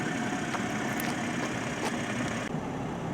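A 2023 Toyota Supra with a 6-speed manual idles steadily, giving a dense, even rumble with hiss that holds for a few seconds and dips briefly near the end.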